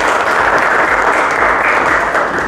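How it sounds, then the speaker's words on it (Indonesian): A classroom of students gives a steady round of applause, dense and loud and sustained without pause for its whole length. "Tepuk tangan untuk ini."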